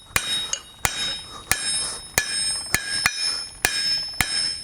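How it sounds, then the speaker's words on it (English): A 3-pound hammer forges a point on hot steel, about a dozen sharp ringing metallic strikes in a steady rhythm, with lighter bounce taps between, close and loud with no talk. "I'm just forging a point using my 3-pound hammer."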